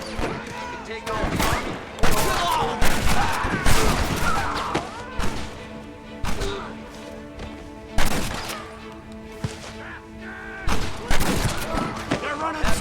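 Gunfire in Red Dead Redemption arrives as loud, clustered volleys of shots with pauses between them, while voices shout over the shooting.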